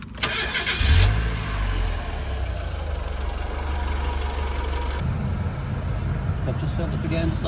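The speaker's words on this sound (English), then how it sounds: "I've just filled up again, started the engine." A Mazda Bongo van engine cranks and catches with a loud burst near the start, then settles into a steady low idle close by.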